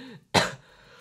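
A single sharp, loud cough or throat-clear bursts out after a brief silence, close to the microphone, then fades into quiet background Fortnite Chapter 2 game noise.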